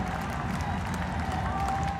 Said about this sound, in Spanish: En medio de aplausos y una ovación que resonó en cada rincón de la plaza de San Pedro